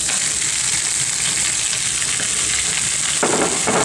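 Tomatoes with Réunion saffron fry in a pan, a steady close sizzle with a brief stirring rustle near the end.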